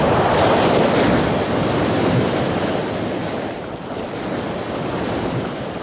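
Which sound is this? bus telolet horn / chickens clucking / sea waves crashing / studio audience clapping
sea waves crashing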